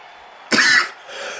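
A single loud, harsh cough bursts out close by, followed by a quieter rasping breath as it trails off.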